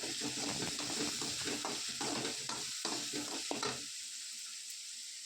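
Turmeric powder being stirred into food frying in a pan, with a steady sizzle and a run of scraping stir strokes that stop near the end, leaving a quieter hiss.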